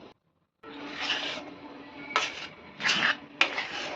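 A spoon scrapes and stirs semolina through mango pulp in a pan over medium heat. Several rubbing, scraping strokes follow a brief pause, with a few sharper knocks against the metal.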